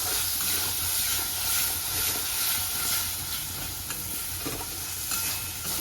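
Peas and spice masala fry in a pan with a steady, close sizzle and hiss, broken by soft scraping as the mixture is stirred; no voices.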